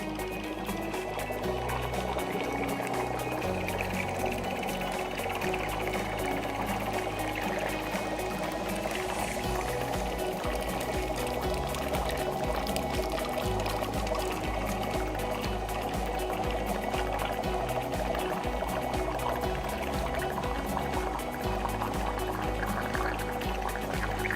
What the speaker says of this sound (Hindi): पियर्सिंग एंड सक्शन टूल के ऊपर आप रख देंगे तो ये पानी यहाँ से आना शुरू हो जाएगा।